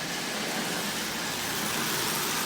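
A 1938 Lionel 229 toy train locomotive runs on its track with a steady, even whirring hum, constant and moderately close with no pauses.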